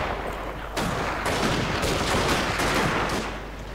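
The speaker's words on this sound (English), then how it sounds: "And now they're taking fire from the rifles. Fire. Keep up the fire, lads." Loud continuous rifle volley fire from a battle in Shogun 2: Fall of the Samurai, dense overlapping shots and crackling reports rolling on without a break, close and heavy throughout.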